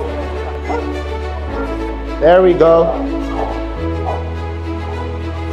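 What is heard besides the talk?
American bully dogs barking at a stack off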